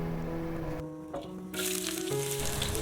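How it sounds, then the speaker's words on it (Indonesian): Chopped shallots and garlic hit hot oil and sizzle steadily, the frying rising to a loud, constant hiss in the second half, close by with no talking. "Jika minyaknya udah panas, kita bisa masukkan bawang merah dan juga bawang putih yang udah kita potong-potong."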